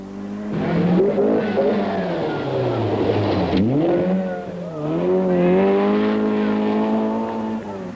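Rally cars race over rough bush roads at night in the 1978 Southern Cross International Rally, an engine loudly revving and climbing through the gears, dipping briefly before surging again close by.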